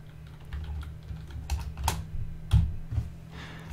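Code being typed on a computer keyboard: a quiet, close run of light key clicks at an irregular rhythm, with a few louder keystrokes.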